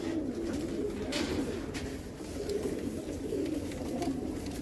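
A flock of about 250 racing pigeons coos steadily, their low throaty calls overlapping into a continuous drone, with occasional light flaps and rustles.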